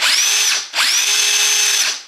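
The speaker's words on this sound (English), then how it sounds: "I'm just going to see if the drill works" A cordless Kobalt-to-DeWalt battery-adapted drill whirs in two bursts, a short spin then a longer one, close and loud, with a rising whine as the motor spins up.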